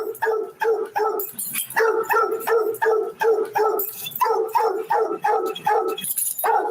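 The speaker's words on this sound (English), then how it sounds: "That's Blue Boy barking up a storm." A dog barks over and over in a steady, rapid series of loud, close woofs with brief gaps between them, heard alone without any talking.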